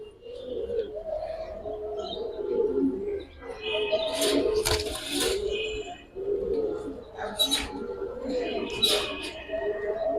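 Fighter pigeons coo in a loft, low rolling calls repeating through the clip alongside occasional chirps and bursts of higher rustling or wing noise, with a voice talking intermittently over them.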